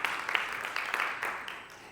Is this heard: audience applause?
yes